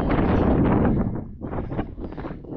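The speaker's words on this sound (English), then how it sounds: "Some windy in there." Gusty wind on Dartmoor during a wild camping trip in England roars steadily into the microphone, loud at first, then dipping briefly before gusting again.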